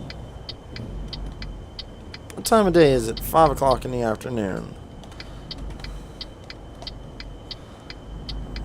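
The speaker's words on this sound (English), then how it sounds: "Turn my turn signal back on because we gotta go this way again." A truck's turn signal ticks in a steady, even rhythm inside Euro Truck Simulator 2, heard throughout beside a low engine hum, with someone talking briefly partway through.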